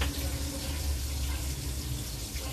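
Tap water runs steadily into a sink while onions are washed, a close continuous splashing stream with no pauses.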